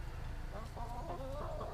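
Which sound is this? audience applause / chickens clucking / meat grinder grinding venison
chickens clucking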